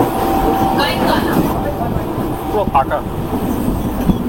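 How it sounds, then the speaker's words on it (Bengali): An up passenger train on the Tarakeswar line rolls along, its car filled with a steady, loud rumble and some rattling, while someone talks briefly over the noise. "ট্রেন ছেড়ে দিল"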